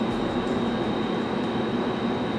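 Passenger train running toward North Berwick, heard from inside the carriage as a steady, loud rumble of wheels on track with a constant hum, no voices.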